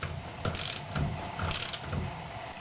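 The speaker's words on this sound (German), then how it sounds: "Wir schrauben die Rolle mit neuer Sicherungsmutter wieder auf den Spanner." A tensioner pulley on a Porsche 944 S2 is screwed back onto its tensioner, giving close, repeated ratcheting clicks in short bursts.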